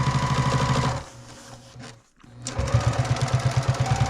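Sewing machine stitching through a couple of layers of vinyl for a project bag, a close rapid mechanical hum that slows and pauses briefly mid-clip before speeding back up to a steady pulsing stitch.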